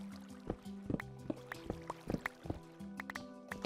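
Water in Minecraft gives short liquid drips and gurgling splashes, irregular close pops over a quiet tonal music bed, with no speech.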